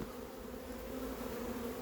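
A 3.5 kg honeybee swarm, recovered after absconding, hums inside a cardboard box: a dense, steady buzz from many bees, close and continuous throughout, with no voices.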